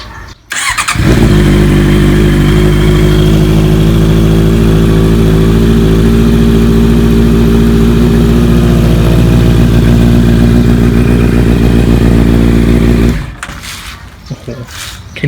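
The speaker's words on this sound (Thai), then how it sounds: "เดี๋ยวให้ฟังเสียงท่ออะคาปูบิกก่อนละกันเนาะ" A motorcycle with a loud aftermarket Akrapovic exhaust fires up and revs hard, a deep, rumbling roar held for several seconds before cutting off abruptly.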